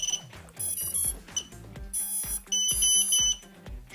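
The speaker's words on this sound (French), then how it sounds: "vous avez vu, bip bip bip bip bip bip, il a détecté la télécommande." A quick series of sharp electronic beeps sounds close up from a Happymodel Toad 90 nano brushless racing drone detecting its remote, mixed with thumping background music.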